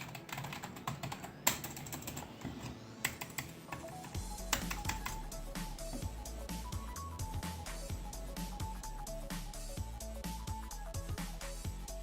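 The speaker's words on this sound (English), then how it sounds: "here we're going to be doing a quick sound test on all the keys on the keyboard." Keys on a Razer Anansi MMO gaming keyboard are pressed one after another in a rapid, close stream of clicks and clacks, with a low background hum joining partway through.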